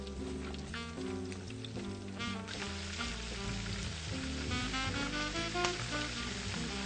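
Oysters fry in corn oil with a steady low sizzle, running the whole time beneath louder tonal music that dominates the mix.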